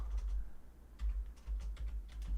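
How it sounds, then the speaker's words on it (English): Computer keyboard keys tapped in short irregular bursts of clicks, close and moderately loud over a low steady hum, with no talking. "I'm actually typing his whole name."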